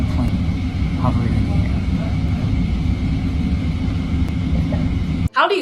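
A plane's engine drones steadily and loudly, sounding close overhead or near, with a continuous broad roar and no breaks until a sudden cut near the end.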